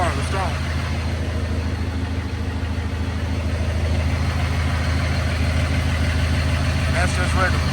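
A truck engine with a suspected turbo fault idles steadily, a low, even rumble with a constant throb running alone throughout, close and moderately loud.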